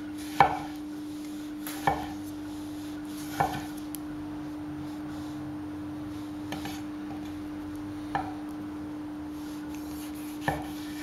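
A Stu Barker kitchen knife slices through vegetables, giving six or so sharp, close chops spaced roughly every one to two seconds against a steady background hum, with no talking.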